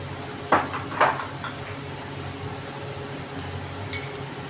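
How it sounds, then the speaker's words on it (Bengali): Spices with cumin powder and mixed vegetables frying and stirred in a pan for an Indian vegetable curry: a low steady sizzle broken by a few brief scraping stirs, close and fairly quiet. "মশলাগুলো খুব ভালো করে কষে নিতে হবে এই ভেজিটেবলগুলোর সাথে"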